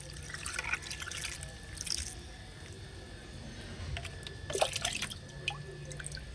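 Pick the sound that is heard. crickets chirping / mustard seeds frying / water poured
water poured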